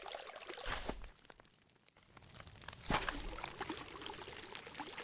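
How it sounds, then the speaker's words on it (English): Flowing water in Minecraft, a soft, faint splashing and trickling with two brief louder gushes, under quiet game background. "I like the sound of that water"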